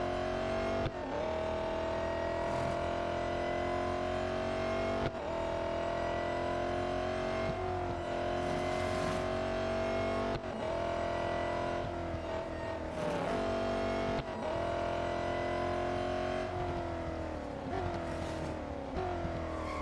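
Race car engine in the video game Real Racing 3, a loud steady high-pitched drone held throughout with repeated gear-shift dips and rises in pitch, occasional tire squeal, no talking.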